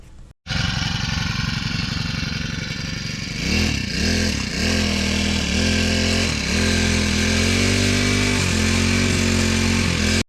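A gas-powered grass cutter trimming grass on a farm, its small engine roaring loud and close, surging and revving repeatedly as it bites into the growth, with no talk.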